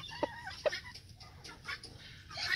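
Hens cluck close by on a farm in a few short, soft bursts with quieter scratchy rustling between them, faint overall.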